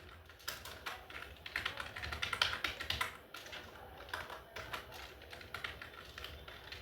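Quiet, close typing on a computer keyboard with worn-off letters, an uneven run of soft clicking keystrokes with a brief busier burst in the middle, no talking.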